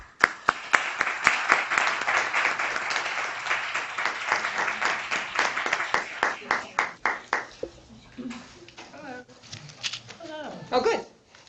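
An audience applauds to welcome a speaker at a lecture, dense clapping that thins out and fades, followed by a voice speaking near the end.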